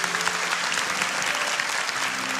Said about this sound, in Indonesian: kasih tepuk tangan untuk Tuhan